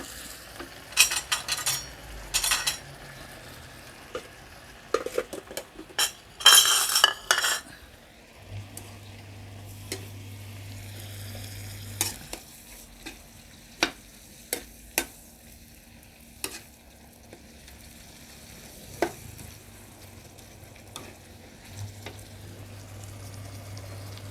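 Chopped pork ribs and holy basil stir-fried in a hot pan, with bursts of spatula scraping and clattering over a steady sizzle, then quieter stretches of frying broken by sharp, spaced taps; no talking.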